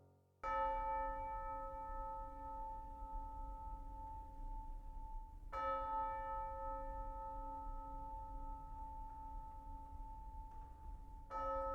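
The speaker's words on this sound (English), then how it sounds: "All day long, the funeral bell tolled." A funeral bell tolls slowly, each ringing strike leaving a long humming decay before the next, three strokes spaced several seconds apart, clear and resonant with no voices.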